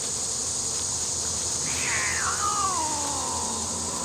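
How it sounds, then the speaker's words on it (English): A house cat gives one drawn-out, falling meow, moderately far off, over a constant buzzing drone of honeybees at an opened hive. "I don't know if you can hear that. That is my other cat."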